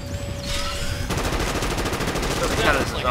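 Rapid automatic gunfire from the zombie-shooting game Dead Sky, a dense continuous burst of loud shots following a short electronic tone and whooshing effect.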